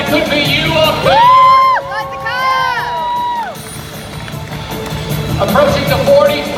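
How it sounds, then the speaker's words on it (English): A live Fear Factor Live audience cheers on stunt contestants, loud whoops and high yells rising in two bursts, then a rumbling crowd noise with another swell of shouts at the end. "Audience, feel free to cheer them on."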